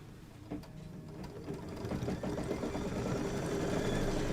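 An embroidery machine stitches quilting through a magnetic 7x12 hoop, a rapid, steady mechanical whirr and needle chatter that starts softly and builds to a constant close drone.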